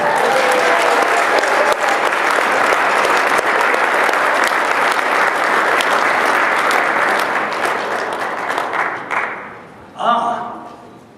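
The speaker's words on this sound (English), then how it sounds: "would you please give them a big round of applause, Mr. John and Mrs. Susan Reitsma" Sustained applause from an audience greeting honorees on stage, loud and dense for about nine seconds before fading out, followed by a brief separate burst near the end.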